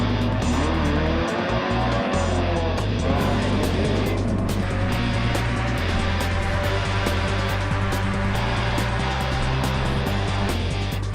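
Race cars roar past one after another, their engines whining as they approach and fade, over a constant loud rumble of traffic.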